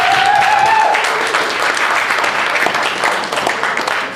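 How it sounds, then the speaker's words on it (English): An audience at a town hall meeting breaks into sustained applause, a dense, loud wash of clapping that continues throughout with a brief whistle near the start. "Give him a big round of applause."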